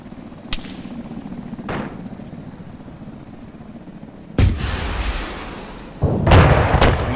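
Gunfire in an Arma 3 battle with a tank nearby: a couple of sharp distant shots, then heavy booming bursts and rolling blasts that grow louder and denser toward the end.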